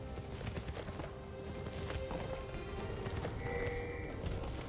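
Horse hoofbeats from the Senna skin animation in League of Legends, a steady clip-clop trotting rhythm at moderate level under ongoing game noise, with brief bell-like chimes near the end.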